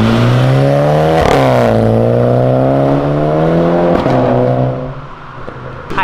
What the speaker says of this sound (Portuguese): Ele saiu acelerando de boa, deu pra ouvir o ronco.